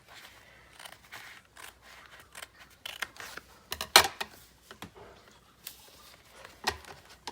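Scissors snip through paper ephemera in a quiet room, a series of short crisp cuts and rustles with one sharp louder snip near the middle, no talking.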